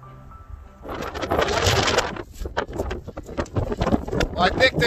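Winter wind gusts across open ground at Wind Cave National Park, South Dakota, rising suddenly into a loud, steady broadband rush of wind buffeting the microphone, then continuing in rough surges.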